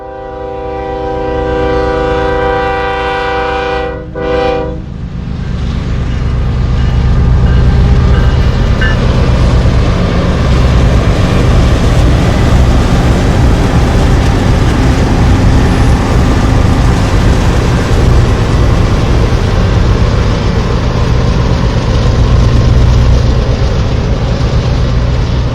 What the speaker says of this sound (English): we catch a meet between eastbound NS Train 234 and westbound NS Train 836 at